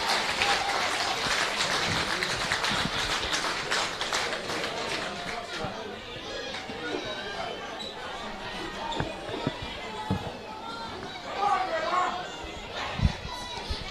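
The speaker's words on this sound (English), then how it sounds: "he'll get a good applause from the spectators as he leaves the field" Spectators at a rugby league grand final applaud an injured player leaving the field; scattered clapping and crowd chatter in an outdoor ground, with a commentator talking over it.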